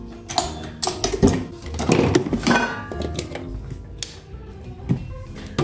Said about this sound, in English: Now we're going to be using the whisk end.